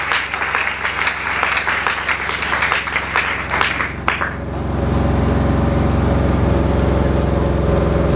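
Church congregation applauding the Lord during a French-language service, brisk clapping for about four seconds that gives way to a steady low engine-like hum, close and fairly loud.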